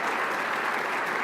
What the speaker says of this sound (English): So you need to give yourselves a round of applause